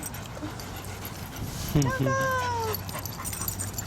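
A Basenji dog lets out a short, close whimpering yip with some panting, while people talk and call out around it.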